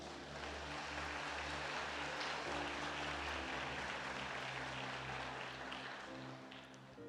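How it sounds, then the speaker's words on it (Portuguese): A church congregation applauds during a sermon, a continuous wash of clapping blended with low droning music and sustained tones, steady and full throughout. "Você pode aplaudir o Senhor?"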